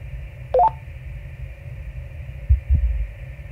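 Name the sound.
heartbeat sound from radio audio in the video game Voyager-19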